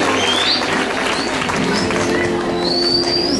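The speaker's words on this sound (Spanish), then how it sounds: "Recibámoslo con fuertes aplausos" Audience applause at a municipal street-cleaning event in Patzún, a steady outdoor clapping wash from a crowd that continues throughout, with bird calls above it.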